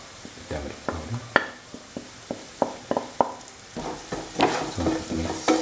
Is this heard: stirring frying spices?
yes